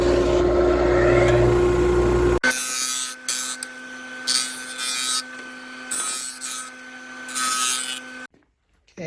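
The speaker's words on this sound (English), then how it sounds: "use the disc sander here and round over these corners" A disc sander rounds the corners of a wooden cabinet door, coming in as several bursts of harsh grinding, each lasting about a second, with short pauses between them and a steady motor hum underneath.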